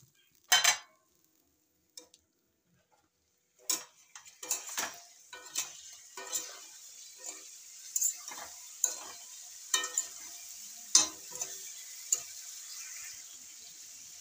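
Pointed gourd (potol) pieces frying in a sweetened spice mixture, a soft hiss under a run of close metal spatula taps and scrapes against the pan, after a few isolated clinks, with no talk.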